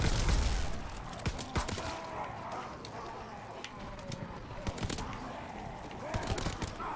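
Rapid weapon fire rings out in Call of Duty WWII Zombies on the Altar of Blood map, with a flurry of sharp shots bunched at the start and scattered bursts continuing throughout, moderately loud over a busy game background.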